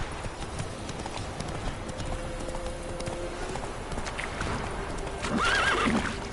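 Roach, a horse in The Witcher video game, trotting with soft rhythmic clip-clop hoofbeats over quiet game ambience, then letting out a clear neigh near the end.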